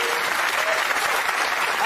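Studio audience on a daytime talk show breaking into loud, dense clapping that fills the room evenly, with voices faintly mixed in underneath.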